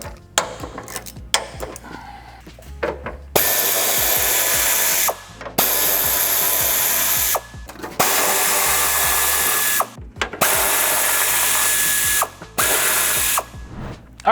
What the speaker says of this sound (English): I'll crack them loose with my ratchet, and then we'll finish it off with the air ratchet to make things go a little bit faster.